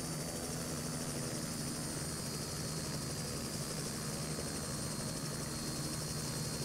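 A helicopter in a flight simulator game performs a stall turn, its rotor and engine drone steady and loud throughout with a constant high whine above the broadband rumble.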